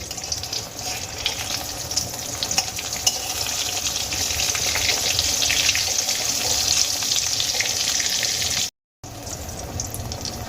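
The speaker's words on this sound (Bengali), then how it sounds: "সমস্ত বেগুন তেলের মধ্যে আমি ছেড়ে দিয়েছি" Eggplant pieces frying lightly in hot oil give a steady, dense sizzle that holds evenly for about ten seconds, with a brief gap near the end and no voices.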